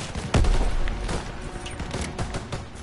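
Sustained gunfire in the World War II video game Call of Duty WWII: a sharp close shot opens a dense, rattling stretch of rapid shots and distant crackling fire that continues without a break and carries no speech.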